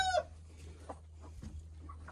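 A hen gives a short call, followed by soft, scattered clucks over a low steady hum, all fairly faint.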